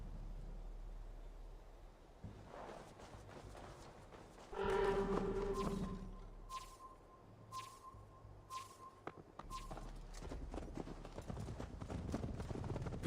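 Horse hooves clip-clop in a video game with a Viking setting. Ambient noise and music sit beneath, and a louder burst of hoofbeats comes partway through.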